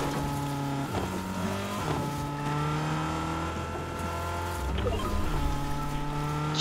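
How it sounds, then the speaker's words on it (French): Car engine revving in the Fortnite video game, a steady harmonic engine drone with shifting pitch that rises and falls over several seconds, fairly loud and continuous with no talk. "Il a une voiture"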